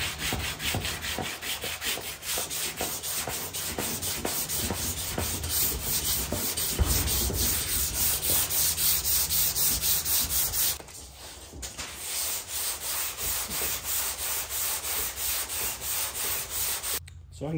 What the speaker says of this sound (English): with the sandpaper as I'm traveling through the sweep of that curve right there